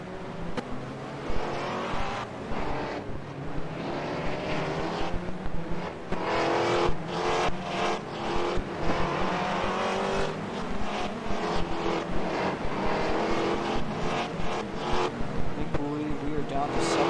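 Formula BMW race cars drive on a circuit during a 2023 Patriot GP race, their engines droning and revving continuously up close, with speech running over the engine noise throughout.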